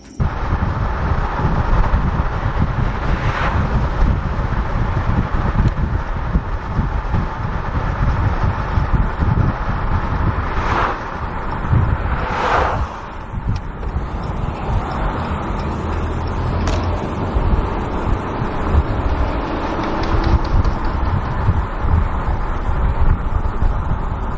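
A car's brakes make scraping, squealing noise while driving, heard as a few short high-pitched squeals over steady road rumble and wind noise, with no talk.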